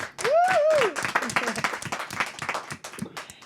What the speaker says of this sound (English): Once again, a big applause for you guys.